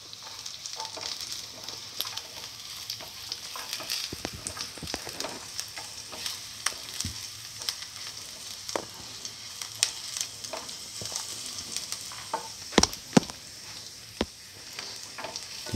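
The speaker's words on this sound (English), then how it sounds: "Keep on sauteing." Garlic sautéing in a pan for chili lamb fenugreek leaf noodles: a steady, close sizzle and crackle of frying, broken by occasional sharp clinks and scrapes of stirring, with no talking.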